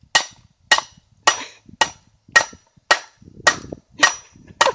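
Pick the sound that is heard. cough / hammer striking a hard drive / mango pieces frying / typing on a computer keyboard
hammer striking a hard drive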